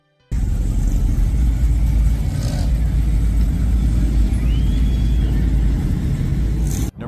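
A muscle car engine growls with a steady, loud, throaty rumble for about seven seconds, holding an even drone with only slight swells, alone with no talk.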